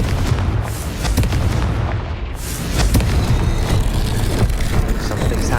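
A Confringo spell explosion in the Hogwarts Legacy video game booms loudly and fills the soundscape with dense, rumbling blasts and crackling bursts that keep going for several seconds.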